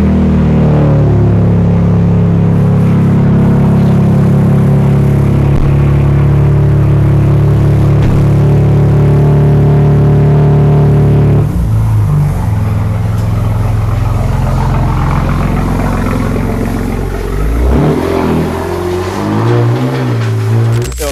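A BMW M2 Berg Edition race car engine idles loudly up close with a deep steady drone, then revs unevenly in the second half with rising and falling blips.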